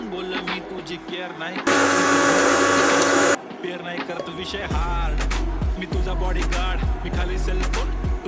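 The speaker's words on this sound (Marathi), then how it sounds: "हे छान मिक्सरमधून काढूया." A mixer grinder grinding mint and garlic cloves whirs loudly for a couple of seconds in one burst, then stops, with kitchen clatter and talking around it.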